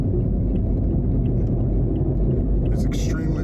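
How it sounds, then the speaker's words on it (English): Loud, steady low rumble and drone of failing cheap aftermarket wheel bearings in the hubs of a car while driving, continuous for the whole stretch with a brief higher hiss near the end. "there's sound in the hubs."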